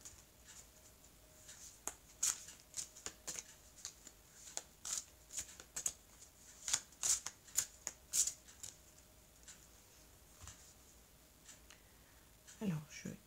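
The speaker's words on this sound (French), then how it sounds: "je vais faire une coupe, ce qui va me permettre d'avoir 2 cartes" A deck of tarot cards being cut and shuffled close by, with repeated quick riffling and snapping card bursts through most of the stretch and soft pauses between.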